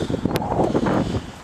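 Steady wind buffeting the microphone, a low rumbling roar with gusty fluctuations throughout.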